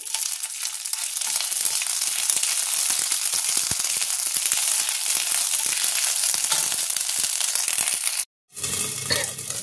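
Ginger fries in a pan with a bright, steady sizzle and fine crackling pops, stirred now and then, until a sudden brief silence and a softer clatter at the end.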